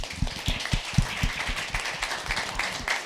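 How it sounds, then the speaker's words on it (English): An audience claps in sustained applause with many overlapping hand claps at a celebratory gathering, fairly close and lively, without speech. "All the claps for Heinrich and Marco."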